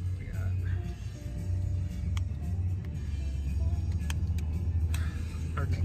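Car engine running steadily while driving, a low continuous hum with road rumble and faint clicks throughout; people talk during it.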